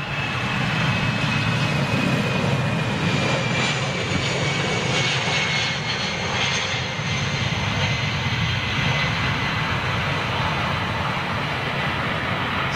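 A Virgin Atlantic Airbus A350-1000 jet, G-VLUX 'Red Velvet', departs London Heathrow on its inaugural flight, a loud, steady engine roar holding close and continuous throughout with a rising whine above the rumble.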